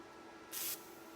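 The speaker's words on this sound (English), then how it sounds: "I can quench it maybe with some oil underneath" Hot metal from a 1956 GMC door's window regulator is quenched with oil, giving a single short burst of harsh, close hissing that lasts about a quarter second and then stops abruptly.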